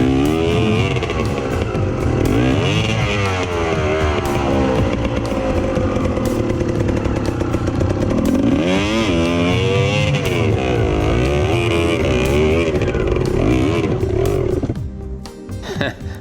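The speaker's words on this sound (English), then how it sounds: "always look to see if you can get a little bit more run up at an obstacle by backing up the bike" An enduro motorbike revs hard as it claws up a climb over clay, roots and rocks, its engine note rising and falling in loud, sustained surges close by, then cutting out near the end.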